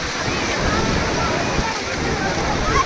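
Water rushes in a constant, broadband roar, loud and steady throughout, with a voice faintly present beneath the flow.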